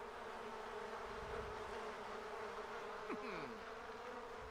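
Bees buzz in The Sims 4 video game, a faint, steady, low drone that runs throughout, quiet and alone.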